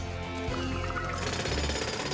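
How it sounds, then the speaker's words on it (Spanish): Cartoon jackhammer from a PAW Patrol episode, a loud continuous rapid pounding rattle that intensifies in the second half, heard alone without speech. "¡Martillo neumático!"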